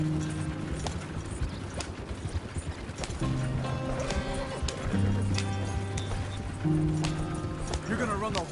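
Horse hooves galloping in a video game, a fast, continuous clatter of hoofbeats under game music, with people talking over it.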